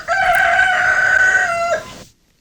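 A rooster crows once loudly and close, a sustained harmonic call lasting about two seconds before cutting to silence.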